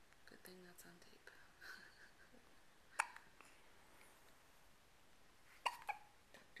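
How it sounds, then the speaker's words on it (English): A baby hiccuping, a few short sharp hiccups spaced several seconds apart, close and quiet against a hushed room, with faint whispery sounds between them. "Look at that clean hiccuping baby."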